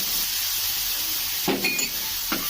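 Onion, green chili and tomato frying in a pan for pasta, a constant close sizzle with a couple of brief stirring scrapes and clinks partway through.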